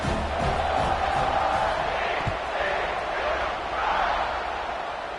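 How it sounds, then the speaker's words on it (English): Football stadium crowd buzzing after a touchdown in a TCU vs Baylor game, a dense, continuous roar of many voices with swelling cheers, loud and sustained throughout. "this crowd is buzzing after that last score"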